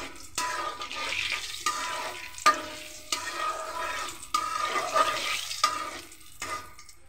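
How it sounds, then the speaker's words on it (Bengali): Cumin seeds and bay leaves frying in hot oil in a wok, a crackling sizzle broken by a few sharp stirring scrapes and taps, close and fairly loud, with no talking. "এখানে আমি জিরা এবং তেজপাতা দিয়ে দিলাম। এটাকে একটু ভেজে নিই।"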